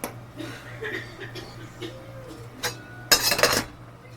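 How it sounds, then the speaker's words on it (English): A pot used to cook Sapporo Ichiban Shio instant noodles is flipped over with a short clattering scrape of metal and dishes, loud and close, following quieter kitchen clinks and soft chuckling. "Just to be safe, I'm going to flip this over"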